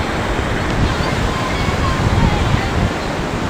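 River water flowing beside someone standing on a field ridge, a steady, loud broadband rush like surf with wind buffeting the microphone, continuous throughout.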